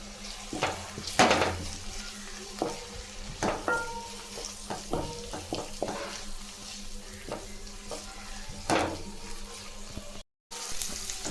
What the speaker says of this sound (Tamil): நல்லா செவந்து நம்ம வதக்கணும்னா இதில் கறிவேப்பிலை கொஞ்சம் போட்டுக்கலாங்க